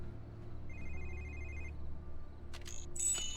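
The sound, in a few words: cell phone ringing in 007 Quantum of Solace video game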